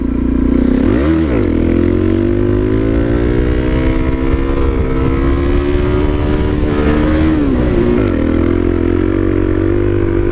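A Suzuki DRZ supermoto motorcycle rides in third gear, its steady loud engine drone holding a constant pitch, with brief rises and dips in revs around shifts.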